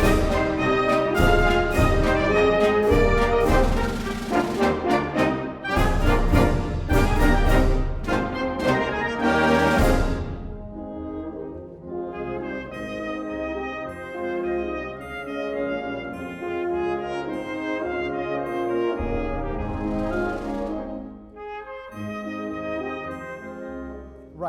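A concert band rehearses the English Folk Song Suite, with loud full ensemble passages of brass and woodwinds playing fortissimo and stopping briefly before resuming, with no talking over the music.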